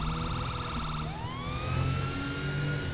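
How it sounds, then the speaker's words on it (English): A loud police car siren yelps in rapid pulses, then switches to a rising wail over a steady engine rumble, in the video game LSPD First Response. "We're going to go ahead and light some sirens through it."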